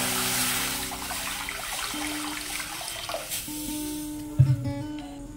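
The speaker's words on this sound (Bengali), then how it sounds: "কড়াইতে দিয়ে দেব জল" Water is poured into a wok while soybean dumplings are being made, giving a close, continuous splashing pour with a soft sizzle underneath and a louder clunk near the end.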